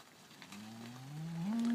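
A herd of cattle being driven toward the corrals, with a single cow mooing loudly and rising at the end over a low background of hooves and shuffling, and no talk.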